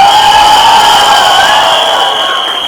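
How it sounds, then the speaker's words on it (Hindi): A live promo-event audience for the film Thamma cheers and claps for actor Paresh Rawal, a loud, steady wash of crowd noise with a sustained whistle-like tone running through it. "परेश रावल जी के लिए तालियां बजाइए दोस्तों"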